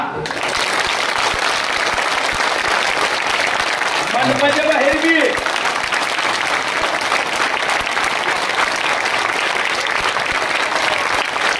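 Loud, dense applause from an audience at a village kirtan, sustained clapping throughout with a brief voice rising over it midway and a few words spoken.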